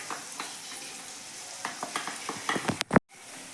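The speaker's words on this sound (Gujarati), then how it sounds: "હવે નાખીશું મરચાં અને આદુની પેસ્ટ." Chili-ginger paste hits browned, sautéed onions for a fenugreek-leaf (methi bhaji) curry, a soft continuous sizzle with a scatter of stirring scrapes and clinks, ending in a sharp clatter and abrupt quiet.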